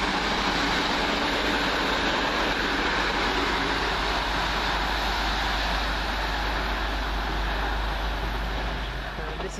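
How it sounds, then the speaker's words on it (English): A passenger train rolls steadily past Heaton Chapel on the slow line, running a couple of minutes late from Manchester Piccadilly toward Stoke-on-Trent; a continuous loud rumble and wheel noise hold for the whole stretch. "believe it's 2K12 from Manchester Piccadilly to Stoke-on-Trent."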